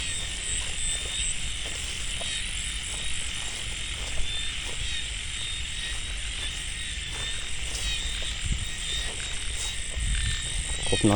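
Frogs croak steadily through a rainy-season evening outdoors, a dense continuous chorus with insects buzzing high above, and someone speaks faintly now and then.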